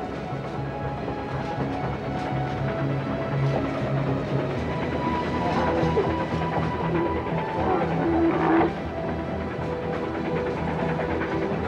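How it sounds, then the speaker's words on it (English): A train climbs the Tian Shan mountain railway toward the foothills, a continuous low rumble and rattle of the carriages that holds steady throughout, with a few faint squeals of the wheels partway through. "The train's now approaching the foothills of the Tian Shan Mountains, and the way is steeper."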